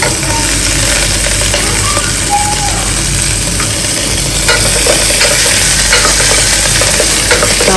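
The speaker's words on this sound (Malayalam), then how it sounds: "ഇനി നമുക്ക് സവോള ഇട്ട് കൊടുക്കാം." Onions with curry leaves frying in a pan as they are stirred, a loud constant sizzle close by with scraping and clinking of the spoon against the pan throughout.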